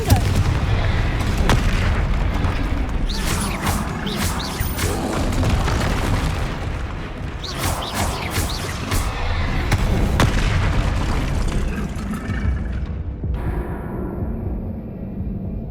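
Confringo blasting spells exploding in Hogwarts Legacy, a dense run of heavy booms and crackling blasts over loud continuous combat noise, with a voice casting spells amid the fight.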